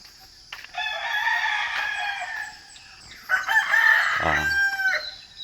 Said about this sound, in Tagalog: Daming manok, i-prepare sa sugarol.